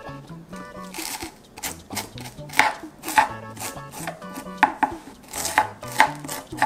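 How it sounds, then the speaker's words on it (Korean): Two Cheongyang chili peppers being finely chopped with a knife on a board, a close run of quick rhythmic blade taps in short bursts. "조금 송송 다져 줄게요."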